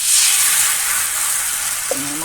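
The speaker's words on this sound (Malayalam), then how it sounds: "ചട്ടിയിൽ ഇങ്ങനെ എണ്ണ പുരട്ടിയിട്ട് നമ്മൾ മാവ് നല്ല ലൂസായിട്ട് കൈ ലൂസാക്കി നമ്മൾ ഒരു ബാലൻസ് ഒഴിച്ചു കൊടുക്കണം" Appam batter hits an oiled pan with a bright, steady sizzle that hisses throughout, and a voice speaks briefly near the end.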